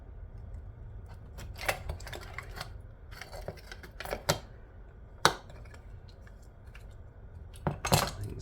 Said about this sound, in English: I'll just cut those wires off, because that's the battery backup